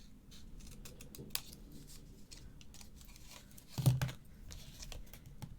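Scissors trimming material for a vanity case, a few quiet crisp snips in a calm room, with one louder cut near the end and no talk.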